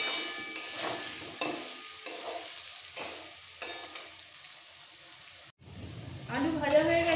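Potatoes fry golden brown in hot oil in a pan, a close crackling sizzle broken by bursts of stirring, with someone speaking over it toward the end.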